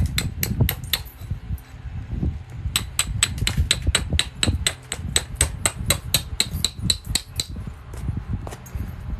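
Obsidian glass struck repeatedly with a hammerstone while knapping and spalling, giving a long steady run of sharp, ringing, glassy clinks at close range over a continuous low rumble, with no talking.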